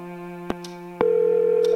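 A telephone ringing in the horror adventure game Scratches: a steady electronic tone with sharp clicks, starting about halfway through and holding loud to the end.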